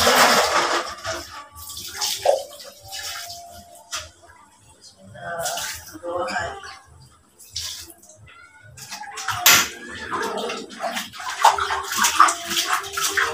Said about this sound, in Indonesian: Tambah lagi airnya.